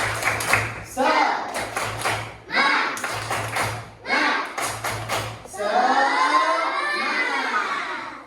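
Children in a classroom perform a patterned spirit clap, with groups of quick claps separated by short pauses, followed by a loud burst of cheering and shouting near the end.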